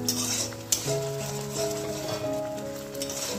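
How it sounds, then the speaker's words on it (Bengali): Spice paste with a little tomato stir-fried in a pan for a jackfruit kofta curry, a steady soft sizzle with scraping stirs and an occasional utensil clink against the pan, close and continuous. "মশলা কষানো চলছে।"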